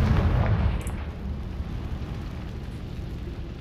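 A Confringo fire spell from Hogwarts Legacy erupts with a loud, close explosive burst at the start, then trails off into a rumbling, crackling decay.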